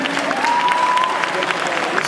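Loud, dense audience applause for a cosplay group contest at a convention's final stage, sustained clapping with crowd noise and a faint cheer or voice rising above.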